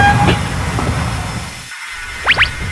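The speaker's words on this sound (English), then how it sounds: "Oh my God, train!" A train rumbles past nearby with a heavy, steady low roar of rolling wheels and wagons, a brief dip in the noise, then two short squealing whistles close together near the end.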